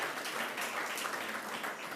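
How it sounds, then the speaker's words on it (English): Audience applause fills the hall at a provincial social development partnership summit in KwaZulu-Natal, a dense, steady wash of many hands clapping, fairly loud and unbroken throughout. "Another round of applause for the DDG,"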